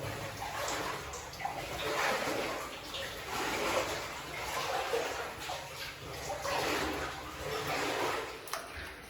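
Knee-deep wading through water inside an abandoned Welsh lead mine, with steady sloshing and splashing in slow surges, close and continuous, echoing in the enclosed tunnel.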